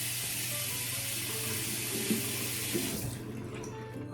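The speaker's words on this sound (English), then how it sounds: "let me wet the razor under some hot water" Hot water runs steadily from a tap to wet a Maggard slant head safety razor, a close, continuous splashing stream that cuts off near the end.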